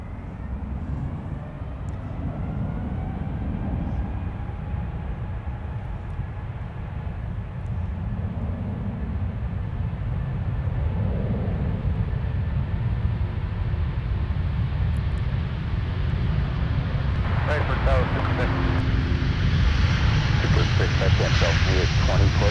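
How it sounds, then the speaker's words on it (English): A Delta airliner takes off from MSP airport bound for Copenhagen, its jet engines roaring steadily and building slightly in loudness from a middle distance, with faint chirps and voices briefly over it near the end. "Delta 116 now departing to Copenhagen"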